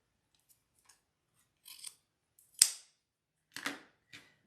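Scissors snip through ribbon for a watercolor bunny wreath, a few quiet, close cuts with one sharp, crisp snip in the middle and faint rustling around it.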